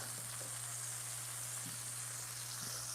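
Lamb chops sear in a hot pan with a steady, even sizzle and soft crackle throughout, a low hum underneath and a couple of faint clinks, no one talking.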